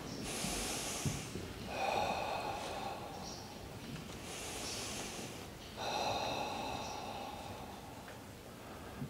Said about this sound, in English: take 3 deep breaths, inhale through your nose, exhale through your mouth